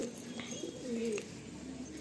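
Faint, soft Kalanka pigeon cooing in a loft, a few low murmuring calls over a steady quiet background hiss.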